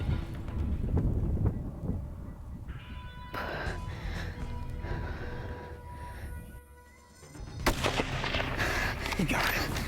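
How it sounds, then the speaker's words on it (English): A rifle fires during a deer hunt in open hilly country, a sharp loud report followed by a rolling echo, with wind noise and low voices around it. "As soon as he touched that trigger, that buck just dropped and rolled down the hill."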